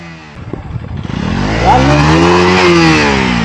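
A motorcycle engine revs up loudly nearby while riding through karvi flower fields in Lonavla, its pitch climbing and then holding at a strong, steady roar.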